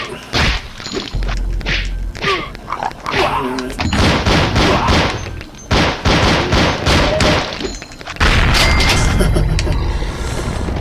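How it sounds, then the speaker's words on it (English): Loud, dense gunfire and heavy booming explosions from the video game Zombie Age 2 pound repeatedly throughout, with thuds and brief gaps between bursts. "At least that ended in an explosion."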